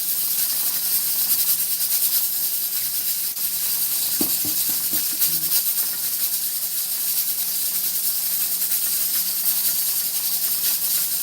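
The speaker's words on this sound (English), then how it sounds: "with the lid on, you bring it to a boil, then you turn it down on simmer, and you let them steam" Vegetables steam under a lid in a saucepan of boiling water, giving a constant close hiss, with a few soft clinks and knocks briefly breaking through near the middle.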